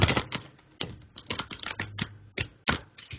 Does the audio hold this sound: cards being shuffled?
yes